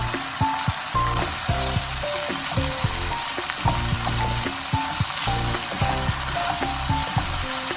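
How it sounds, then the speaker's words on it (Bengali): Sliced potatoes and bitter gourd fry in a pan with salt, a busy crackling sizzle with frequent small pops and spatters, close up and steady, no voices. "আলু সব কেটে এখন রান্না করছি"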